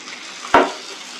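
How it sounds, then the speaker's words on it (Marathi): Karanda fish being turned over in a little oil in a pan on medium heat, a single brief burst of sizzle and scraping over a steady low frying hiss. "थोडंसं तेल असं सगळ्या बाजूने मासे आपण उलटे करून टाकू."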